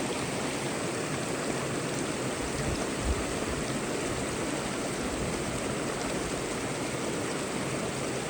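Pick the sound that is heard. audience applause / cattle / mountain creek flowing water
mountain creek flowing water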